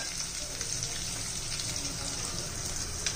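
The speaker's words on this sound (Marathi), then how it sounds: "आता आपण कांदा परतून घेऊया" A large, lengthwise-sliced onion sautéing in a pan while cooking pavta rice, giving a steady, close, hissing sizzle that holds evenly throughout with no voices.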